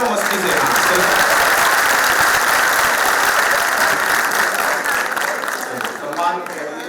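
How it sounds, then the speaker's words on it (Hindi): A large audience claps steadily and loudly for about seven seconds at a Hindi poetry event honoring martyrs at DTU, with the applause fading slightly near the end. "तालियां बजाते रहो मस्ती से"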